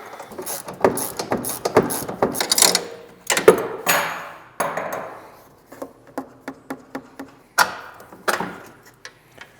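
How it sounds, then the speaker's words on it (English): A 17mm wrench and ratchet work the upper and lower shock bolts on a Honda Pioneer side-by-side, giving close, sharp metallic clicks and knocks in quick irregular bursts, with short pauses between runs. "your stock upper and lower shock bolt with your 17mm wrench and ratchet, and then hang on to the factory bolt."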